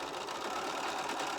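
A sewing machine stitching a quarter-inch seam on a quilt block, a faint, steady mechanical whir with a rapid rhythmic pulse running throughout, no voices.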